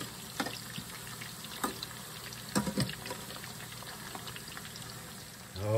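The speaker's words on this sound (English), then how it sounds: "There's nothing sounds better than meatballs frying in a pan." Steady low sizzle of meatballs frying in a pan, with occasional crackles and pops, close and continuous with no talking.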